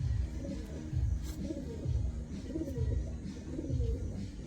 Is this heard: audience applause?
no